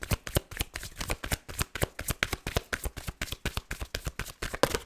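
Tarot cards being shuffled by hand, a rapid run of crisp riffling taps and slaps repeating in quick bursts, close and clear with no voices.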